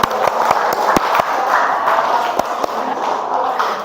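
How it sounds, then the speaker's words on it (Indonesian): A high school history class at SMA Negeri 1 Cigugur claps for a student named Agni, with sharp individual hand claps over a steady crackle of applause, close and fairly loud throughout. "Tepuk tangan untuk Agni"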